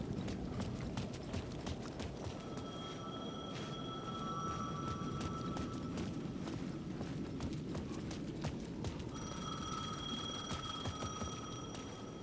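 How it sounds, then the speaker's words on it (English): A payphone rings at the edge of a plaza in Alan Wake 2, its steady electronic ringing tones repeating in bursts over a constant, noisy background ambience with no talk. "The payphone at the edge of the plaza was ringing again."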